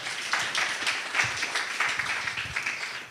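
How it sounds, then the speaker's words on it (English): Audience applause for a speaker at an evening TikTok event on responsible content, steady dense clapping across the whole moment with small swells, fairly loud and with no talk over it. "A round of applause for Bobby."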